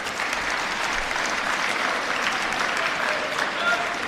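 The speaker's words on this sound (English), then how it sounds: "Let's clap it up for our seniors." Steady, sustained applause from an audience at a school award ceremony honoring seniors, a dense even wash of many hands clapping without a break.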